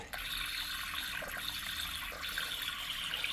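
A WEIPRO aquarium filter pumps water in a sink, giving a steady, faint hissing rush of moving water with no pauses.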